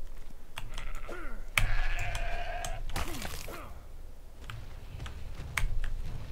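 Sheep in the video game ARK bleat in a few short, wavering calls over quick computer keyboard typing and clicks, the bleats close and fairly clear against a quiet background.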